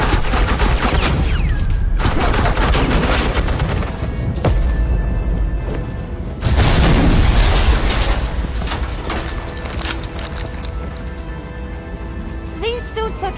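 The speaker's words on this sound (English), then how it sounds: "Suppressing fire." Suppressing gunfire in the game Batman: The Enemy Within: dense, sustained automatic fire that rattles on continuously for over ten seconds, swelling and easing in bursts, loud and close, with a voice talking briefly over it.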